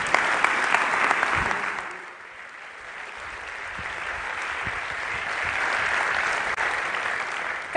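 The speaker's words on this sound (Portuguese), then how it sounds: "queremos ouvir a vossa energia, ouvir o vosso aplauso" An audience at a Socialist Party youth convention applauds in sustained, dense clapping that swells and eases slightly without stopping, heard from within a large hall.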